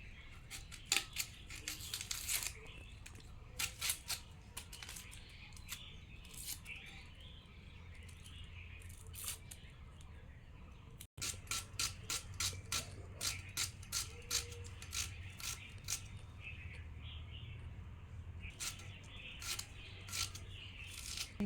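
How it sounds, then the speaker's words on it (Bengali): An onion is cut for khichuri, with rapid crisp snips or chops in irregular bursts, close and faint, over a low room hum and occasional faint bird chirps. "পেঁয়াজটা কেটে নিচ্ছে"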